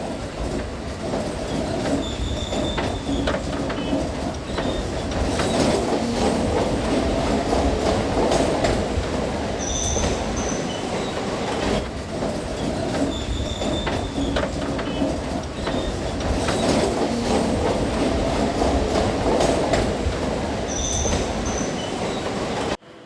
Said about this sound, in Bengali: আমাদের ট্রেন কিন্তু পরবর্তী স্টেশনে ঢুকছে